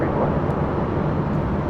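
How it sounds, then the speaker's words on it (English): Philippine Airlines Boeing 777-300ER taxiing at LAX, a steady broad jet engine roar heard at a distance, loud and constant with no other sounds. "Philippine Airlines Flight 113 heading back to Manila. It's a 777-300ER heading up to 24 left."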